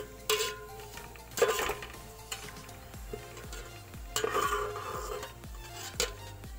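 Golden brown fried onions lifted out of hot oil for a dhaba-style mutton curry, with irregular clinks of a utensil against the pan over a steady low sizzle, close and moderately loud.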